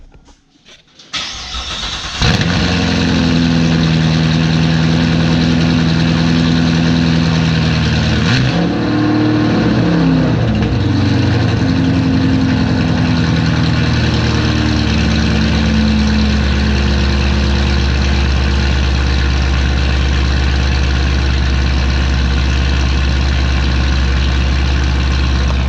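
A white C7 Corvette cranks and fires up with a loud rev flare, then settles into a steady, deep idle that rumbles on alone for over twenty seconds.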